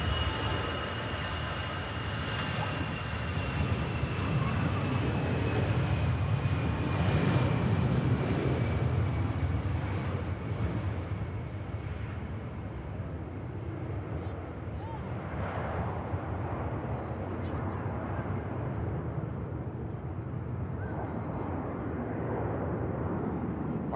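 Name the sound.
airliner on its takeoff roll at Manchester Airport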